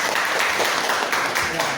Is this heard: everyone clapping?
yes